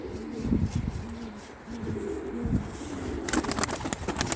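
Pigeons in a coop cooing in low repeated phrases, faint and near, with a brief flutter of wings and a bright rustle near the end.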